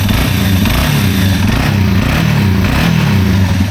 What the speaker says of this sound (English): Engine sounds perfect. Listen how quiet that exhaust is, man.